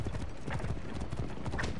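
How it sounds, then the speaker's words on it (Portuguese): A horse trots past in the Assassin's Creed Origins video game, its hooves clip-clopping in a steady, close rhythm over game ambience. "Olha o cavalo passando aí, ó."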